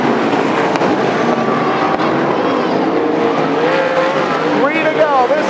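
Sprint cars race around the Willamette Speedway dirt oval, a steady loud roar of engines with rising and falling pitch as they pass, under continuous crowd and PA-style ambience.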